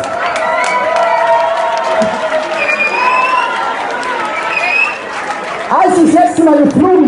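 A lively crowd cheers and whoops for a dance group, with scattered clapping and shouts, loud and sustained, easing slightly near the end.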